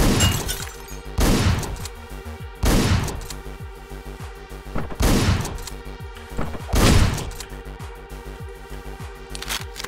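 Repeated sharp gunshot bursts from the top-down shooter video game Hotline Miami, five or six loud blasts spaced a couple of seconds apart over a ringing electronic music bed.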